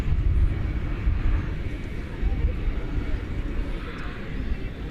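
An airliner takes off at DFW Airport with a low, rumbling jet roar that holds steady and fairly loud throughout.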